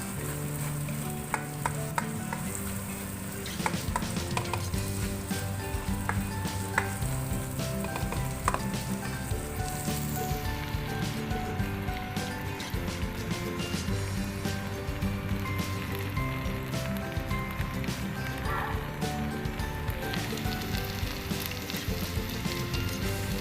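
Macaroni pasta ingredients mixed in a hot pan, a constant loud sizzle with repeated scraping and clinking of a utensil against the pan, louder and busier in the first half before settling into a steadier fry.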